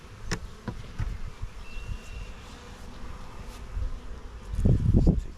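Honey bees buzzing in a hive around a pollen patty, a close, soft drone with louder swells and a burst of nearby buzzing near the end.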